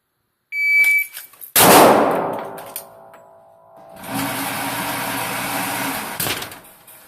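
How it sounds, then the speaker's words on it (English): A shot timer gives a sharp electronic beep during handgun draw practice, followed by a loud close gunshot and its ringing decay, then a lingering mechanical hum. "When it beeps, I'm going to draw and shoot the target center mass."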